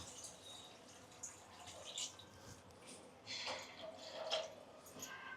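Water pours from a cup into a pan of sugar for syrup, a soft, continuous trickling and splashing with light drips, fairly quiet and steady, no talk.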